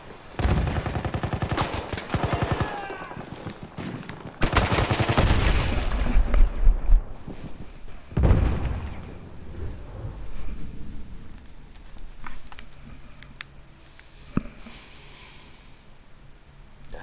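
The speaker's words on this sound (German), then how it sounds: "Ich werfe eine Granate!" Battlefield 1 combat: a loud blast from a thrown grenade amid dense bursts of gunfire, heavy rattling shots early on, then sparser distant firing and an occasional sharp crack.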